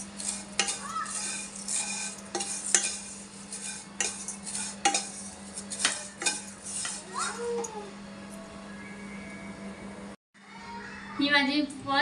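Vermicelli, already roasted, stirred in ghee in a pan for kheer, with repeated sharp scrapes and clinks of a spoon against metal over a soft background hiss, a brief pause near the end, and a voice briefly audible.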